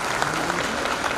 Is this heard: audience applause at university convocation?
yes